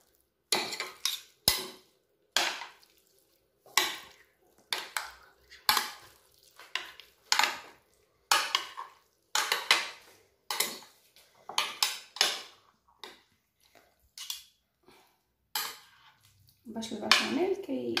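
Gratin ingredients stirred together in a bowl with a utensil produce a regular series of close clinks and scraping strokes, roughly one every second, with a voice coming in at the end.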